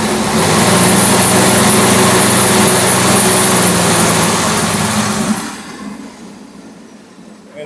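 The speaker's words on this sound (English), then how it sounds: "all that does is it slowly ramps up this motor so that there's not a huge inrush of current" A Cub tractor engine runs loud and steady at full PTO speed, a dense high-pitched drone that holds for about five seconds before dropping away sharply toward idle.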